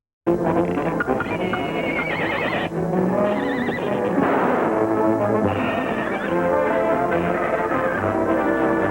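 Horses neigh and whinny repeatedly over a busy 1934 Looney Tunes cartoon soundtrack with music and clattering hooves, loud and close throughout.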